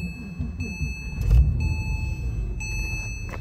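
A 2008 Porsche 911 Carrera S with 66,537 miles, already at operating temperature, idling with a steady close low engine rumble that swells briefly after a starter whirr near the start and then settles.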